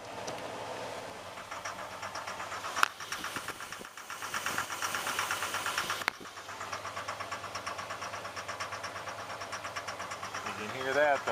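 A damaged Ford engine idles roughly after a cold start, with a steady mechanical clatter and ticking running throughout, a couple of sharp knocks, and a person talking over it.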